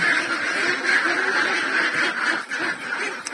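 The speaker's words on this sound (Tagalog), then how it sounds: "At talagang napakailap ng Itik Pinas guys." A flock of Itik Pinas ducks quacks continuously while being moved into a renovated duck house, a dense, nasal chorus of overlapping calls nearby with a few louder bursts and no speech.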